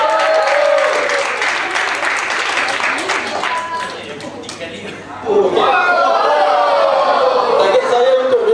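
An audience at a talk applauds continuously and fairly loudly, with scattered chatter and voices mixed in; the clapping dips briefly midway before speech rises over it.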